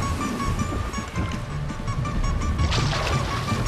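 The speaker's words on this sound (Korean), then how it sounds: "보기보다 파도가 너무 셌습니다." Strong Baltic Sea waves crash and churn close by in Latvia, giving a rough, splashing roar with a few sharper slaps of water and no speech.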